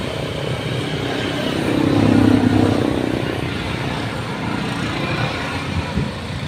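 Steady roadside traffic of tricycles, motorcycles and cars passing close by a roadside shop, one louder vehicle swelling and fading in the middle, a continuous motor rumble throughout.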